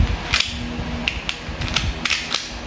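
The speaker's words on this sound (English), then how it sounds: "Put the slide back to that." The slide of an airsoft Glock is fitted back on over its recoil spring, giving several sharp plastic clicks and snaps, close and irregular, over a low background hum.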